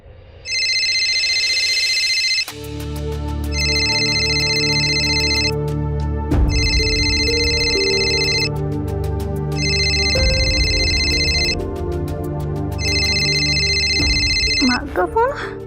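A mobile phone ringtone in a Hindi TV crime drama repeats five evenly spaced electronic bursts over a sustained musical underscore, loud and close.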